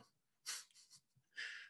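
A quiet single sneeze with a sharp breathy burst, preceded by a short intake and followed by soft breathing sounds.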